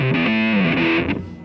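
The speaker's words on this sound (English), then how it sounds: "I want to do is set up a simple guitar chain where I want a sustain, a wah, a distortion, and an amp model probably" An electric guitar played through a sustain, wah, distortion and amp-model chain gives a brief, saturated, sustained note that bends slightly and then fades.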